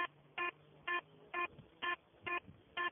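Metal detector tone flagging iron: a series of seven short, evenly spaced electronic beeps, clear and steady, with nothing else heard.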